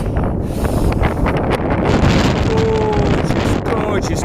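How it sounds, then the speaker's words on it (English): Blustery wind gusts roar across the microphone on a hilltop near the final trig point on the Isle of Bute, Scotland, loud and constant with brief faint tones underneath. "It's a bit blustery"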